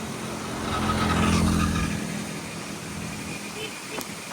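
A motor scooter zips past on a street beside a waterfall in Valencia, its engine swelling loud and close for a second or two before fading, with people talking nearby.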